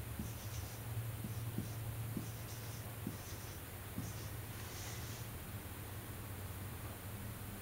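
Numbers are written down by hand in short, faint scratching strokes, spaced a beat apart over a soft background hiss, then the strokes stop.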